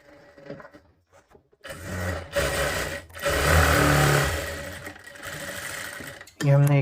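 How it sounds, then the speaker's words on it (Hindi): A sewing machine stitching a double seam on a blouse runs in close, loud whirring bursts of rapid needle clatter, stopping and starting several times while someone talks alongside. "अब हम इस पर डबल सिलाई लगा देते हैं।"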